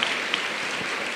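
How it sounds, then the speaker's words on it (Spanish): An audience at the Marzas festival in Burgos applauds in a steady, moderately distant patter of many hands. "Esos aplausos"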